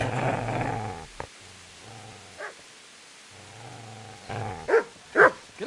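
A dog in Kingdom Come: Deliverance growls low and close in a few short bursts, with a couple of sharper snarls near the end and quiet gaps between.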